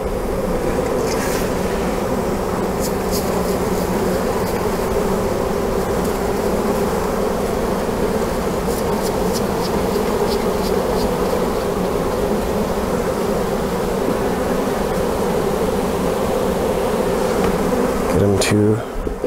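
A swarm of honey bees buzzes steadily around a loose comb being fitted into a hive frame, a continuous close droning hum that lasts throughout with only slight shifts in loudness.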